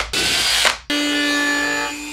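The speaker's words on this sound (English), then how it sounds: "For the 1/4-20 bolts, I'm using a 5/16 drill bit." A power drill with a 5/16 bit bores bolt holes for 1/4-20 bolts during work on a 2.5L Jeep engine air temp sensor mount, with a short whirring burst, a brief gap, then a longer steady high-pitched drilling run.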